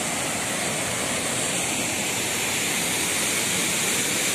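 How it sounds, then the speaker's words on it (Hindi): Kanger Ghati waterfall in Kanger Valley National Park near Jagdalpur roars as a loud, constant broadband rush of falling water, close and unbroken, with no voices. "ये है कांगेर घाटी वाटरफॉल"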